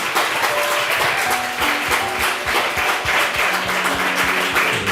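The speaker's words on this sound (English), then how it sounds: "Samuel, please clap for Samuel." A school audience at a debate competition claps for a debater, with lively overlapping hand claps and a few distinct sharp claps, plus voices and faint tones mixed in.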